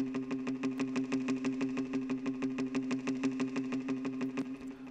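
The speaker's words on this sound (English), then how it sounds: "it's called mute guitar number 2 in" A muted guitar plug-in patch called Mute Guitar number 2 from Nexus, used in an Afro house track, plays short plucked notes in a steady, off-time rhythm, repeating evenly and close, loud and alone throughout.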